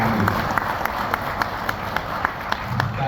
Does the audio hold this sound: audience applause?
yes